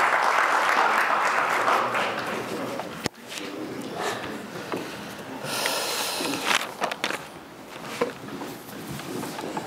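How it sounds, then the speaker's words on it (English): Audience at a CHAZAQ event applauds as Rabbi Paysach Krohn is introduced, a loud round of clapping that fades after a few seconds into scattered claps, shuffling and movement. "round of applause for Rabbi Paysach Krohn!"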